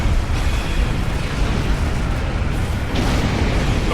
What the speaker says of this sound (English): The Herald are firing on the portal!